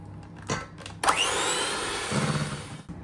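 An electric mixer beats eggs into creamed butter and sugar, starting after a couple of clunks and whirring loudly for about two seconds before stopping, nearby with no talking.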